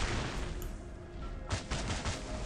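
A zombie blowing itself up at close range in the mobile survival game Dawn of Zombies, a sharp burst of broadband noise followed by a few quick crackling gunfire-like bangs.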